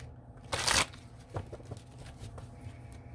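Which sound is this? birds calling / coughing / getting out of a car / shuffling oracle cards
shuffling oracle cards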